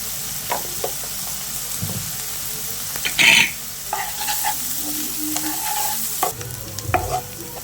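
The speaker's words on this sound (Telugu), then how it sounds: "ఉల్లిపాయలు వేసుకుందాం. తెలిసిందే కదా, కొంచెం సాల్ట్ అయితే వేస్తున్నా." Onions with a pinch of salt fry in a pan for mushroom curry, a continuous close sizzle punctuated by scraping and knocking as a spoon stirs them, with one louder clatter partway through.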